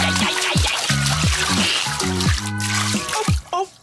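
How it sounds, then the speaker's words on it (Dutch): Water splashes and sloshes close by in a series of short bursts in a bath, with a voice chattering over it. "Kan ik spetteren?"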